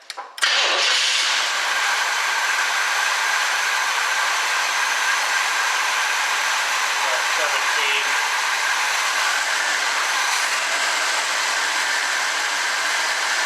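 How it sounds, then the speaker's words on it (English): A 1974 Chevrolet Blazer barn find engine catches with a brief cranking burst, then holds a loud, steady high idle with the choke on, an even hissing drone that continues without letup. "I'm just wondering how it's still on high idle"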